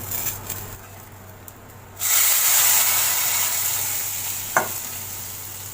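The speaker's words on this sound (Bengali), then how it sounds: "এই ফোড়নটা আমি এর মধ্যে ঢেলে দিচ্ছি" Fried spice tempering poured into a pot of thin curry with lentil dumplings and vegetables, bursting into a loud sizzling hiss at once and then slowly fading, with a short clatter near the end.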